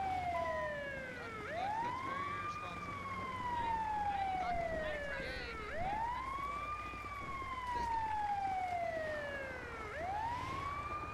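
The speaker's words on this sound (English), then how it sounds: "Back up out of the way of this ambulance." Ambulance siren in the GTA V video game wailing in a continuous rising and falling cycle, loud and close, with a low vehicle rumble underneath.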